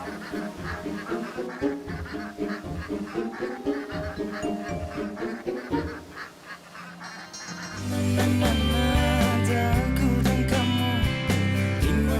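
Ducks in a duck pen quack in quick repeated bursts through the first six seconds, then music swells in and carries the rest, with the fowl calls fainter beneath it.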